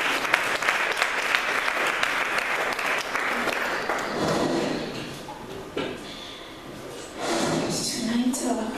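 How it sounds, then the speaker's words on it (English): Church congregation clapping hands together, a loud, dense burst of applause that thins out midway and returns toward the end, with voices and a few knocks or thuds mixed in. "Let's clap hands for Jesus."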